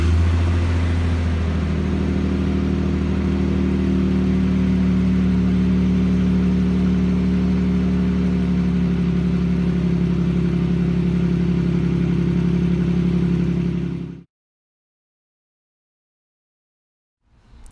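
A fourth-generation Toyota 4Runner engine idles after a fuel catalyst installation, a steady, close, low humming drone with an even tone that runs for about fourteen seconds before stopping abruptly into silence.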